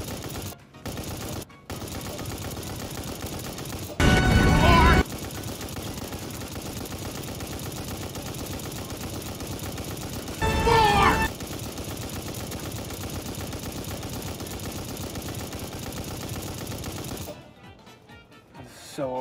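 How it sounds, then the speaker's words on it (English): Guns firing in a Call of Duty Vanguard match, two loud sustained bursts of automatic fire separated by quieter game ambience, with sharp clicks near the start and end. "I want every gun we have to fire on that man."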